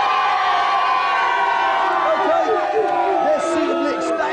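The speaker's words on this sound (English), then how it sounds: "Give a cheer!" A studio audience at a 1993 TV game show cheers and shouts loudly and continuously, a dense crowd roar with whoops rising toward the end.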